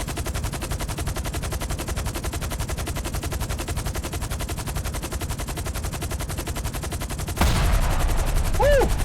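Rapid machine-gun fire in the video game Capone Rags To Riches, a steady unbroken stream of loud shots for several seconds, then a louder burst with a short cry over it.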